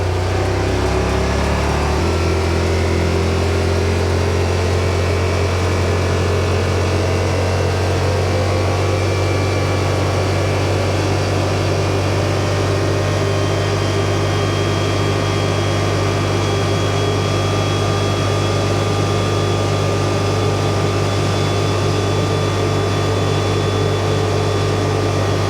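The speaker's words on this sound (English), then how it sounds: "We're gonna run the 40 miles an hour and find out how she does." Yamaha Rmax side-by-side cruising at about 40 mph, heard from inside the cab as a steady, loud engine drone with constant low hum and road rumble throughout, no talking.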